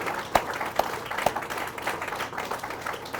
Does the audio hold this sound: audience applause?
yes